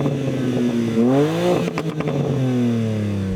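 BMW M car engine revving hard in a stationary rev test before a drag race, rising in pitch to a peak then dropping back, with crackles from the exhaust at the top and a steady loud idle after.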